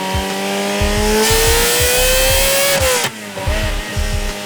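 Ferrari F355 Berlinetta with aftermarket headers, Y pipe, test pipes and a Japanese exhaust, revving hard in a loud, continuous high-pitched wail that climbs, dips briefly between gears, then pulls up again.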